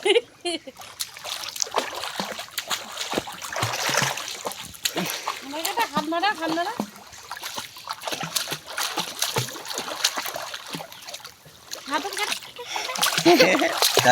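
Children splash and churn the water while learning to swim in a village pond in rural Bengal, with repeated close splashes and sloshing throughout as people talk and call out over the water.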